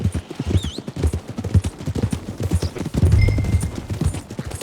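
Horse hooves clip-clop at a steady walking rhythm in Red Dead Redemption 2, loud and close against a busy backdrop of game sound, with faint whinnying and brief tonal effects.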